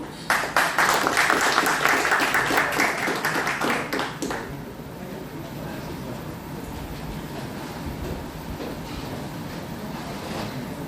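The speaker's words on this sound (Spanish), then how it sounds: "pido al doctor Hugo Rodríguez un fuerte voto de aplausos" An audience applauds at an institutional training session, a dense burst of clapping for the first few seconds that fades after about four seconds into a low room hum.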